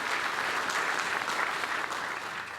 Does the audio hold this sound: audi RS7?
no